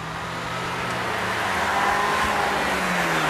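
Steady in-cabin hum of a Mini Countryman 1.6 engine while driving, a smooth low drone with road and tyre noise, constant throughout and no voices.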